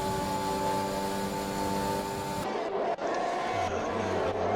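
Formula 1 cars racing at Silverstone in F1 2021, a steady high engine whine that cuts off into a rougher, lower roar as the cars pass, with no one talking.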